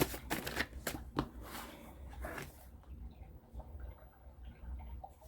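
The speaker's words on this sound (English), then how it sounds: "One more shuffle, and then I'm just going to take the 3 cards on top" Tarot cards riffle and snap in a few quick shuffling bursts close by, then settle into quieter soft handling of the deck with a faint background hum.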